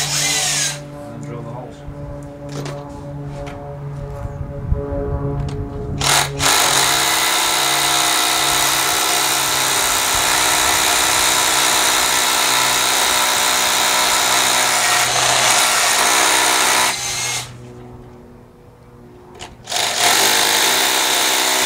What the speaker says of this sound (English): I then get an SDS drill, an SDS bit.